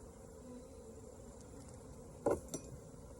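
Honey bees buzz during a beehive inspection, a faint, steady hum throughout, broken near the end by two brief knocks or bumps.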